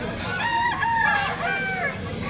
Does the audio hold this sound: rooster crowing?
yes